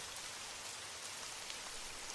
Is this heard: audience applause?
no